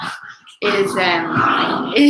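Quincy the dog barks and yips excitedly indoors, loud and close, in a rapid burst with whimpering edges, while a person talks over him.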